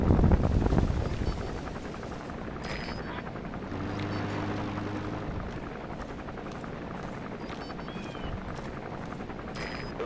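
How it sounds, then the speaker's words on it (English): Helicopter in a stealth video game, patrolling as an arms dealer's chopper for security forces: a steady rumbling drone with a low rotor hum, fairly faint and distant amid wind-like noise, with no talk. "Looks like the arms dealer's chopper is gonna patrol for the security forces."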